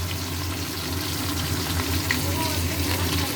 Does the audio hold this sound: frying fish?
yes